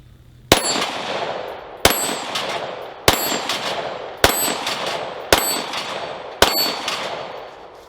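Smith & Wesson M&P 22 Magnum pistol firing six sharp, loud shots at an even pace roughly a second apart, each crack followed by a short ringing decay with no talking.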